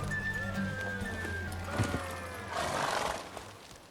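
Horse hooves clip-clop at a gallop while the mount whinnies and neighs, in a Witcher 3 video game race, with game music and a brief voice underneath, moderately loud and close.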